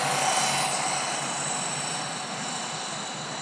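A GPTOYS S916 budget rear-wheel-drive RC car runs flat out, a thin high electric motor whine that starts loud and close and eases slightly as it pulls away over a few seconds.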